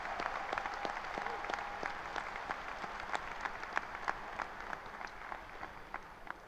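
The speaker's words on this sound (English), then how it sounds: "Let's give them a huge round of applause to show our appreciation" Graduation audience at a high school ceremony applauds school staff, a broad, steady wash of many hands clapping, distant and fairly soft, with a few sharper individual claps standing out.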